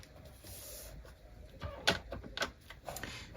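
A Tim Holtz Precision Trimmer is pushed down to slice through paper, giving a short close sequence of sliding rasps and crisp clicks, quiet overall.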